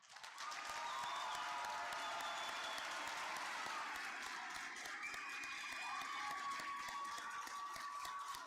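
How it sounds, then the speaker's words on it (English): An audience at a Valley Forge Military College commencement applauds the graduates, sustained crowd clapping building within the first second and holding steady, moderately distant. "please join me once again in applauding the graduates of Valley Forge Military College."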